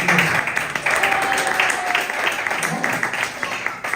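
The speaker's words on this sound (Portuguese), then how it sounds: "Aplauda o Senhor em nome de Jesus." A church congregation claps during an evening service, a steady wash of applause with a voice speaking faintly beneath it.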